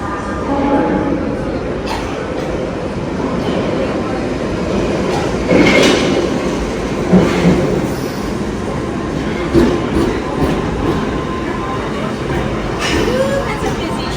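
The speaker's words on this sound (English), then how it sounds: "That was a very crowded train ride." A crowded London Underground tube train rumbles steadily and loudly from inside the carriage, with wheel clatter, rattling and a faint squeal over a continuous roar, and indistinct voices mixed in.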